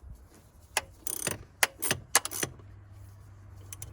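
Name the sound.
tightening bolts on a Mercedes W123 240 Diesel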